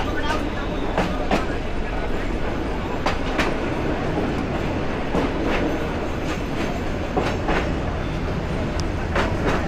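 From inside a moving train on the Mymensingh–Dewanganj line comes a loud, steady rumble with rhythmic clickety-clack wheel beats recurring over the rails, filling the whole stretch.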